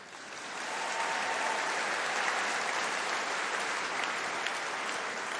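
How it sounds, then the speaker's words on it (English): Graduation ceremony audience applause swells in over the first second into a sustained, even field of clapping that carries on steadily, slightly softer near the end. "he already got a clap from all of you"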